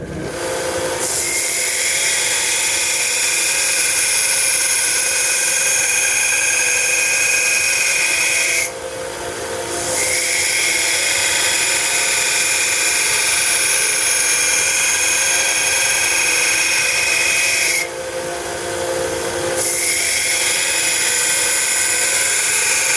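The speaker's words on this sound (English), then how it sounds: "We're going to switch to our little grinder here." A small grinder works the edge of a steel squirrel-tail knife blade, a loud continuous high-pitched whine that dips briefly twice as the tool lifts off the metal, with no talking.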